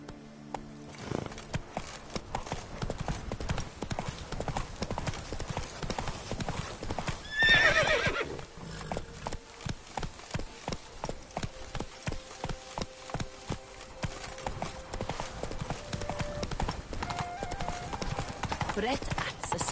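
In the video game Witcher 3, the horse Roach gallops with a steady, rapid clip-clop of hooves. A single loud whinny breaks in partway through, and the hoofbeats carry on under occasional speech.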